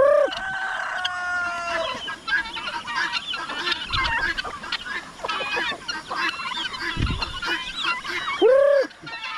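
Farmyard hens cluck and squawk close by, with a rooster crowing and goose-like honks scattered throughout, busy and continuous, with no speech.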